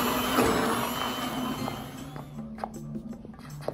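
A kitchen blender grinds cooked pork-style beans for frijoles puercos, a steady loud motor whir for most of the clip that eases off near the end into scattered clatter.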